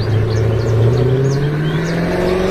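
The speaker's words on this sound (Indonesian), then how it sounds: "Ini mobil balap. Wush." A race car engine revs in a steady rising whine, with the pitch sweeping gradually upward over a few seconds, loud and close with no talking over it.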